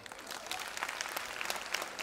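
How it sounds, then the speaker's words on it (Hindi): Audience applause at a Mission High School annual day and 50th anniversary celebration, a lively clapping crowd with distinct sharp claps standing out from the patter, heard somewhat distant and soft. "जोरदार तालियां।"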